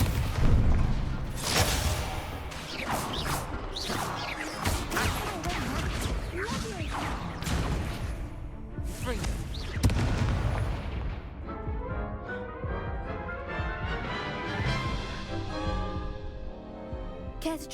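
Incendio fire spell bursts in the Hogwarts Legacy video game during a dueling match, loud whooshing blasts and impacts in quick succession with heavy game effects, tapering into softer crackling and tones toward the end.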